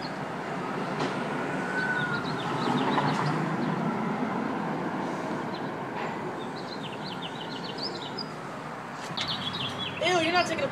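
A bird chirps in short bursts of high tweets against a busy urban background rumble, with a person talking nearby and a louder run of calls near the end.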